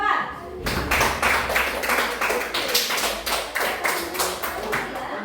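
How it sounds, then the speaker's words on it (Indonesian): A classroom group applauds a student group's presentation: a short, steady burst of clapping from a small audience that starts abruptly and carries on evenly for several seconds, fairly close and clear. "Aplaus dulu untuk kelompok 4"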